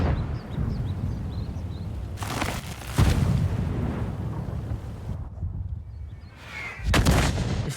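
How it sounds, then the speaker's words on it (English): Artillery fire in the World of Tanks video game: several heavy booms land against a constant rumble of battle, with a sharp crack near the start and another loud blast near the end. "Artillery blind firing me, that's too good."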